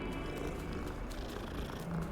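A cat purrs in the Hogwarts Legacy video game, a steady, continuous low rumble that runs close and unbroken for the whole stretch with no talking.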